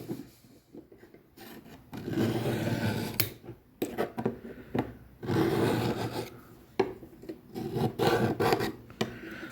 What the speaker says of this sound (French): Alors, on va lui mettre un petit coup de Warsharp.